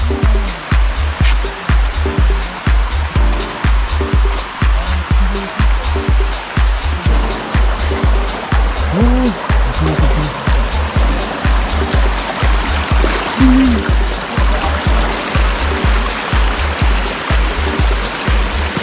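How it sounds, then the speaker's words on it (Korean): A chain of waterfalls and a rushing mountain stream in a summer valley at Sipi Falls, Geumsan, roar loud and steady up close, a dense continuous wash of water with no voices. "여기까지 올라오는데 폭포가 연달아서 어우 정말 멋지네요"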